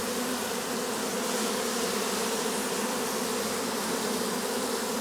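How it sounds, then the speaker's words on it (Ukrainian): A honeybee swarm at an apiary: a dense, continuous buzzing hum of many bees, close and steady throughout with no pauses or talking. "прилетів інший якийсь рій"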